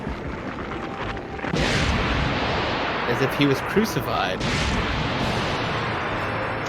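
Explosions in the animated film The End of Evangelion, a loud sustained rumbling roar with heavy booms, under music and a speaking voice.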